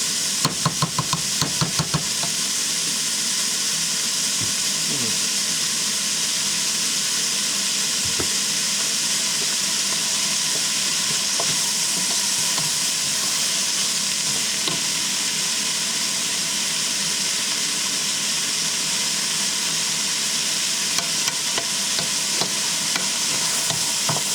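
Shrimp chop suey sautés in a pan with a loud, constant sizzle and hiss throughout, broken by utensil scrapes and clatter of stirring at the start and scattered taps later.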